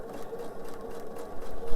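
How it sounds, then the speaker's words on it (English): A sewing machine runs slowly and steadily while joining two quilt rows, giving a close, continuous low whirring hum with slight pulsing. "I'm going to sew nice and slow."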